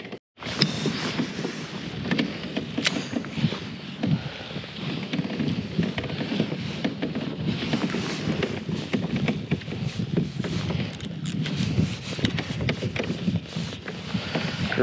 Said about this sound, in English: right now the wind's blowing onto me